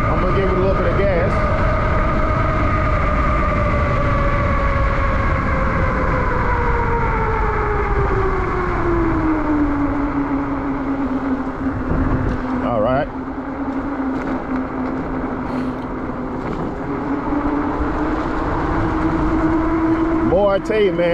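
8000W Tommebike electric bike picking up speed, a steady motor whine rising and falling in pitch under loud, constant wind and road rush, with a brief knock near the middle.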